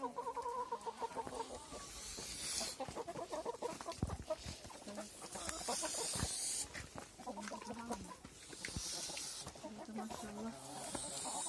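Chickens cluck softly and continuously in the background while people talk nearby.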